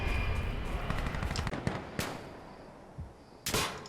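Gunfire rings out in the online shooter Insurgency Sandstorm, a few sharp reports and crackling bursts over a dense battle ambience, one loud shot near the end.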